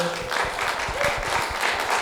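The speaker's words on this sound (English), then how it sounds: "Can we have another round of applause for everybody?" Audience applause for filmmakers at a short film screening Q&A, a dense, steady patter of clapping from a crowd with some low voices mixed in.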